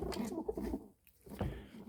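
Soft, close coos from Budapest red pigeons in two short bursts separated by a brief pause, with faint fluttering texture.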